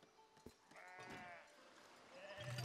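In the game Foundation, a sheep lets out a couple of quavering bleats up close, with a brief low voice and soft game ambience around them.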